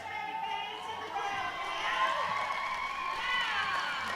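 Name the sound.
crowd cheering at roller derby bout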